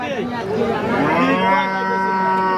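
A healthy dairy cow with one faulty teat moos loudly and close at a Bangladeshi cattle market, in a single long, drawn-out call.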